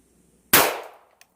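A single sharp gunshot from a Remington RP9 pistol cracks out close by, loud and sudden, then decays over a short tail, followed by a couple of faint clicks.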